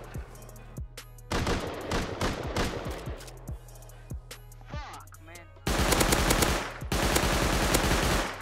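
Gunfire in Rust, first as scattered sharp single shots, then dense, loud automatic bursts near the end, with a brief quieter stretch between them.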